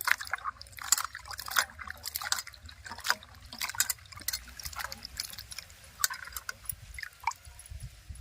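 Eggplant and sweet potato pieces are rinsed by hand in a kitchen bowl of water, giving soft, irregular splashes, trickles and drips with quiet clinking close by and no talking.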